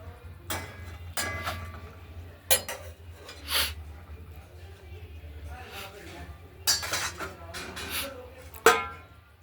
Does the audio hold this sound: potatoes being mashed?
yes